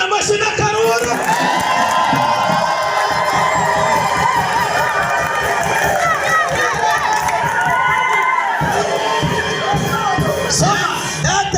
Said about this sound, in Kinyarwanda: uretse banza kubitira Imana amashyi n'akaruru